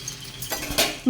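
A metal spatula scrapes and taps against a hot pan while flipping a dosa, with a short scrape, a clink and a louder final knock in quick succession, close and clear.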